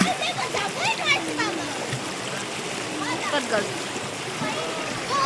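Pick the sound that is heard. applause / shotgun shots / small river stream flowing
small river stream flowing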